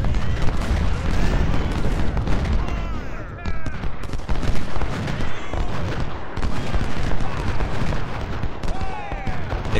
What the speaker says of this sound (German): Jetzt schießen wir sie schön brav zusammen